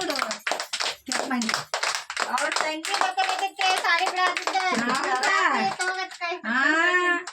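Hand claps at a baby girl's first birthday party, a scattered patter of clapping mixed into a group of voices singing and talking loudly throughout.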